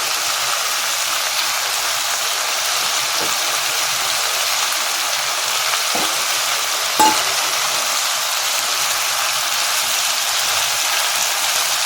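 Sprouted chickpeas fry in a pan for a vegetarian Bengali puishak ghonto, giving a steady, even sizzling hiss throughout, with a few faint clicks of stirring and no voices.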